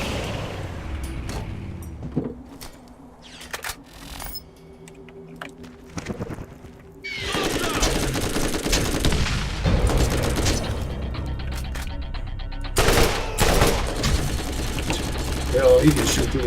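Enemy gunfire in the video game Borderlands, scattered shots at first, then dense bursts and booms ringing through a large space, with someone talking over the fighting.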